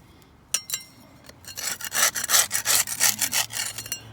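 Moss peeled up from the ground in easy strips gives rough, scratchy tearing rustles, a couple of short pulls and then a longer run of close, repeated ripping bursts, with no talking.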